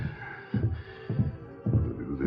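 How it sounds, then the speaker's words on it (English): Three dull, evenly spaced raps on a door in a 1946 Lone Ranger radio drama, muffled and low, heard alone over a faint hum. "Lem Decker was in his home when a rap sounded on the door."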